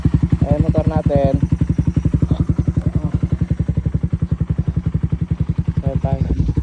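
A motorcycle engine runs with a fast, steady thumping pulse, close and loud throughout, while a voice speaks briefly over it near the start and again at the end.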